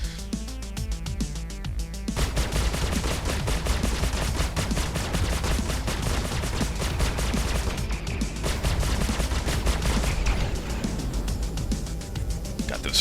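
Spaceship guns fire in dense, continuous rapid bursts during a Star Citizen dogfight between a Drake Buccaneer and an Anvil Super Hornet, loud and sustained across the whole stretch.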